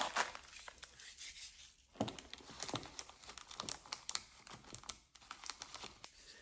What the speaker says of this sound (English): we're gonna take shred and put all around it